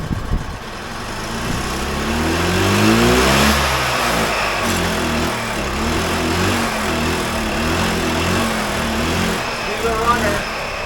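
Gas-powered 2001 EZGO TXT golf cart engine cranks and catches, then runs steadily with a loud, close, pulsing mid-pitched putter and brief revs, continuing alone without talk.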